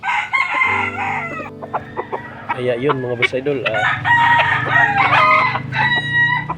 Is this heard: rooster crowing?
yes